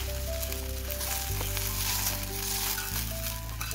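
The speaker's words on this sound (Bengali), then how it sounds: "সয়াবিনটা মোটামুটি আমার এখানে ভাজা হয়ে গেছে। আমি এবার সয়াবিনগুলো ঢেলে দেবো।" Soybean chunks frying in a pan with turmeric and Kashmiri chili powder give off a steady, close sizzle throughout, with a sustained tonal hum running underneath.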